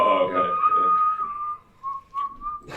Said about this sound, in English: That's an inward whistle.